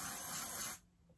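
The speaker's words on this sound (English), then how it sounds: "This is Paul Mitchell's Marula Oil Hairspray." Paul Mitchell Marula Oil hairspray sprays in one steady, close, broadband hiss lasting under a second, then cuts off sharply to near silence.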